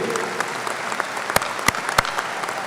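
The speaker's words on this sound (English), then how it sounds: "Yes, a round of applause for you guys" Steady applause from a high school graduation audience, a dense even wash of clapping with a few sharp louder claps standing out near the end.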